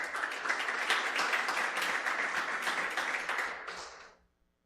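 A church congregation applauds together in a dense, steady wash of clapping that holds for about four seconds, then cuts off abruptly into silence.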